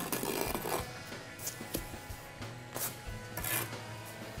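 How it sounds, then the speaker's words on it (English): A brick trowel blade rasps and scrapes excess mortar off a brick wall, a close, continuous gritty rubbing with irregular sharper strokes and no talking. "you use the inside of the blade to scrape forward to catch any mortar that is hanging off the wall"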